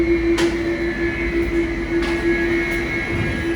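A tram rolls along a quiet city street with a steady, loud mechanical hum and a sustained electric whine, plus occasional faint clanks, continuous for several seconds with no talking.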